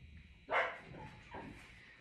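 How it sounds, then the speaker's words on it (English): Other dogs barking and whimpering nearby during a sit-stay training session, one sharp bark followed by a softer whine, slightly distant over a quiet background. "So you can hear the other dogs just being a little jealous"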